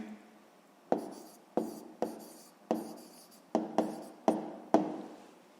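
A pen writing an answer on paper during a 6th-grade maths exercise: eight short, close scratching strokes, each starting with a sharp tap and fading, spaced irregularly with no talk.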